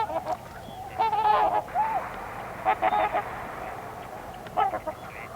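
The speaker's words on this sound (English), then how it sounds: "I love the sounds that swans make." Swans calling on a lake on a calm morning, a flock giving repeated honking, bugling calls in bursts of two to four notes, moderately near and clear over quiet open-air background.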